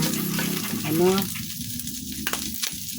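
Meat and vegetables sautéing in oil rendered from the meat for adobo pinakbet, a continuous close sizzle with stirring scrapes, and a voice briefly heard over it.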